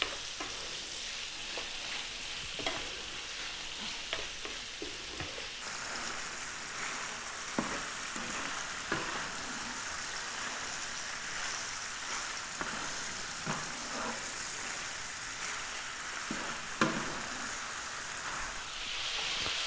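Meat for a Lancashire hotpot browns in a pan over medium heat, giving a continuous soft sizzle with scattered pops and occasional stirring scrapes, close but fairly quiet, with no voices.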